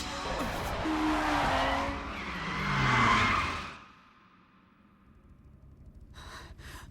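A car spins out on a mountain pass road in an anime street race, a loud burst of tire screech and engine roar sweeping up then cutting off abruptly, followed by a quieter lull and faint rumbling.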